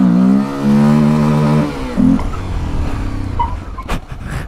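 Honda XRE 300 motorcycle carrying a passenger accelerates hard, its engine note climbing in steady harmonic revs then easing off as the bike settles into rougher, lower running.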